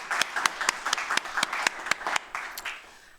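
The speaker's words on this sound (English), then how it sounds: "Round of applause." Applause from the audience at a graduation ceremony, a steady burst of hand claps with distinct individual claps standing out, fairly close, trailing off at the end.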